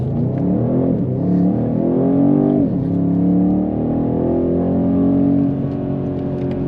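A BMW M850i V8 Gran Coupé accelerates hard on the Autobahn. The engine is loud and close, with rising tones that climb through the gears and break at each shift. Nobody speaks.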